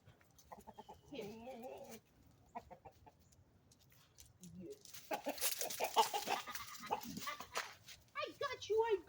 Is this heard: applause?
no